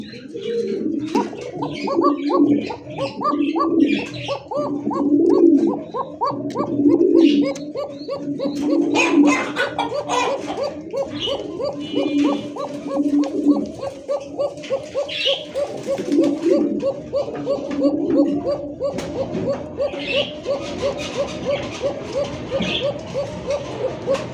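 Domestic pigeons on a farm cooing in repeated rhythmic calls, close and clear, with other birds chirping and a faint dog bark in the background.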